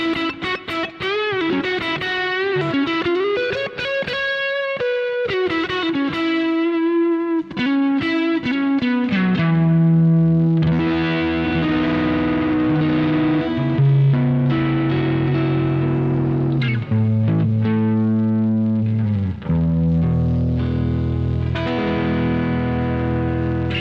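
An electric guitar played through a Boss GT-1 effects processor, distorted with chorus and reverb, runs through a lead melody before settling into sustained chords, loud and continuous without talk.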